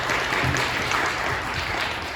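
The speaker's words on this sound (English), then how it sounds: "One more round of applause for Michael, please." Audience applause at an information architecture event fills the room as a steady, dense patter of clapping hands, fairly loud and even across roughly two seconds, with no speech over it.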